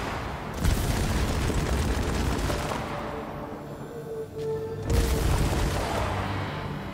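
Rapid-fire Hollow Seeker weapon shooting in the sci-fi game Returnal: a sustained burst of dense, booming fire, a short lull, then a second heavy burst that runs to the end.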